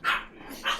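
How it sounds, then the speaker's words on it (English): Dogs barking in the Voices of the Void video game: two short, loud barks about half a second apart, heard alone. "all the dogs are going crazy now"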